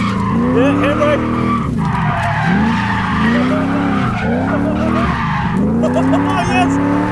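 A cheap V8 Ford Falcon skids under handbrake, its engine revving hard in repeated rising and falling surges over continuous loud tyre squeal, close and sustained throughout, with excited voices shouting over it.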